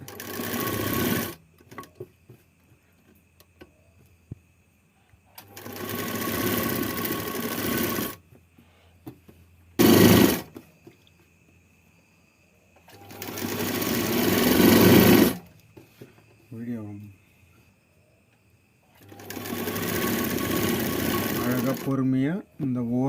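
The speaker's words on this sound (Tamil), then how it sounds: "ஓரத்துலேயே தையல் வரணும் தையல் எங்கேயும் கீழே இறங்கக்கூடாது" A sewing machine stitches along the edge of blouse fabric in four loud, rapid mechanical bursts, with someone talking in the quieter gaps between runs.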